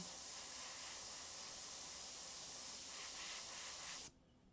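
Airbrush spraying paint while painting a portrait, a steady close hiss that runs unbroken for about four seconds and then cuts off abruptly.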